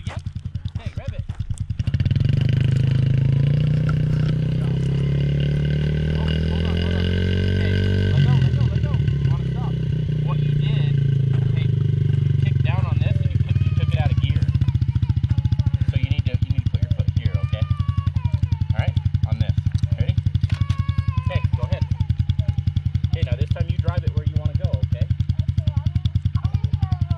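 A Yamaha TTR50 dirt bike's small engine rises in a rev then settles into a steady, close, buzzing idle with clattery mechanical ticks, while people talk over it.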